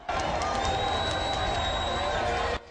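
A huge jubilant crowd surrounding Joseph Kabila in Kindu, a dense, continuous roar of cheering voices, close and loud, ending abruptly.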